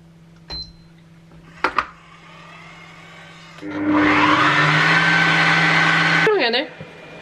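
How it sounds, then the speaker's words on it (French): A kitchen food processor blends cake batter with tomatoes and oregano at speed 5, whirring loudly for a few seconds after some faint clicks and clatter, then stopping abruptly. "Et ensuite on mixe tout le bazar. « 40 secondes, vitesse 5. »"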